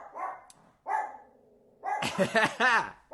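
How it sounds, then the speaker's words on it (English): A dog barks in short, sharp bursts, fairly close, with a few loud yaps bunched toward the end. "I apologize for the dog."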